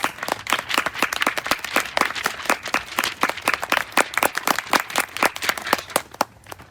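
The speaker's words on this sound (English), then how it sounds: "And clap for us." A small audience of about ten people at a leadership camp closing ceremony claps for several seconds, with sparse, distinct hand claps in an uneven rhythm that thins toward the end.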